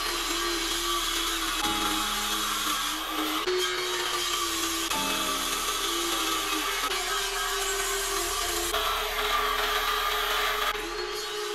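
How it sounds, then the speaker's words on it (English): Power saw cutting through scrap plywood for a box top and lid, a steady loud whine with a continuous gritty cutting rasp and slight pitch shifts as the blade works through the sheet, with no talking. "The plywood I'm cutting up is gonna be for the box top and the lid."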